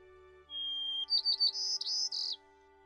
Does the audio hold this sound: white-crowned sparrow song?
yes